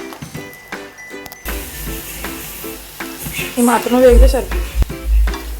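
Potato and carrot pieces sizzle in hot oil for a veg pulao while being stirred, with scraping stir strokes and crackling frying that swell louder toward the end; a voice speaks briefly.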